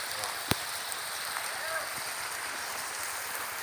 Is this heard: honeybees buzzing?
no